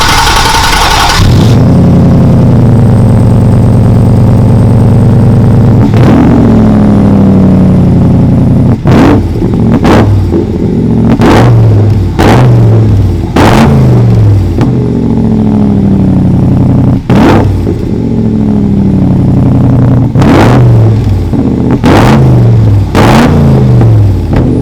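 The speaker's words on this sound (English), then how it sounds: "wait till you hear how this car sounds with that Coyote and Roush 8 stack" A 1965 Backdraft Racing Shelby Cobra replica, Jack Roush Edition, with a Coyote V8 and Roush 8-stack induction: loud, close engine that starts up, idles, then is revved in repeated sharp blips with rising and falling pitch.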